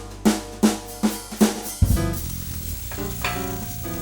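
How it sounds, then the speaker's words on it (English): Almond-crusted grouper fillets sear in a hot pan, opening with four evenly spaced soft thuds before a loud, continuous close sizzle takes over, with no talk. "Our fish is frying or searing."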